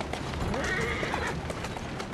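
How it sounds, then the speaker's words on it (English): A horse in the Assassin's Creed Syndicate video game clip-clops quickly along at a gallop with a whinny, the hoofbeats steady and prominent over the game's street ambience. "Come on, come on, horse, speed up."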